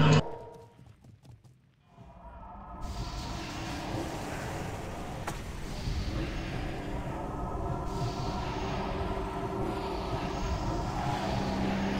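Horse hooves clip-clop steadily in a video game, heard over a continuous wash of game noise with faint voices underneath.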